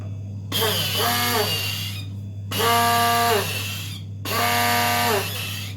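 A Sinbo electric blender whirs in three bursts, each spinning up and winding down with a gap between, over a steady low electrical hum.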